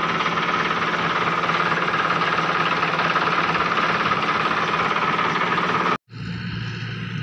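A tractor-driven chaff chopper on a farm, powered by a 385 tractor, runs with a loud, steady engine drone and rattling. The sound drops out abruptly for a moment near the end, then the running machine resumes.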